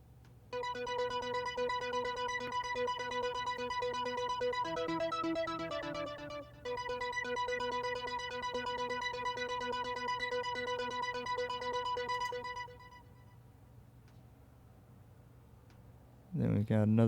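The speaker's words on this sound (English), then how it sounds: "we have this arpeggiated Juno." A Roland Juno synthesizer plays a rapid arpeggiated pattern of bright repeating notes with a steady pulse, a short change in the pattern midway, fading out before a final thump.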